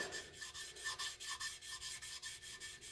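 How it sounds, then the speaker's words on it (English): A jointer planer blade is buffed with jeweler's rouge: quiet, rhythmic back-and-forth rubbing strokes, about four per second, close by and soft, with no talking. "lastly, we're going to touch it up with some jeweler's rouge"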